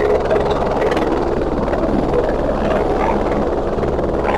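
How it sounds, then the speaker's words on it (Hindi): A helicopter lands at the Kedarnath helipad with a loud, close, continuous rotor and turbine roar that stays steady throughout and has no talk over it. "आप सामने देख पा रहे हैं कुछ इस तरह से हेलीकॉप्टर लैंड होता है"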